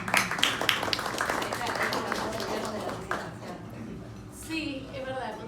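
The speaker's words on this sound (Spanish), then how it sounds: "gran aplausito para eso" Audience applause at a novel presentation, a short run of close clapping that starts strong, fades over a few seconds and gives way to quiet talk.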